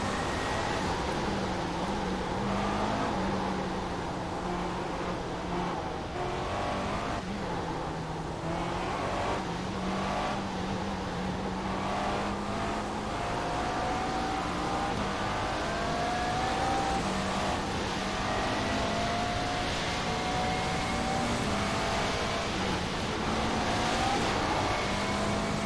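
A McLaren MP4 GT4 race car in iRacing drones steadily through a long run, its engine note dipping and climbing in gear steps as it slows for a corner, close and continuous with no talk.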